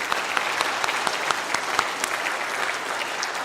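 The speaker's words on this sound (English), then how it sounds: "just a quick round of applause for them." Audience applause at a Boy Scouts Eagle Scout Court of Honor, a steady, dense round of clapping from many hands that carries evenly through the whole stretch with no talk.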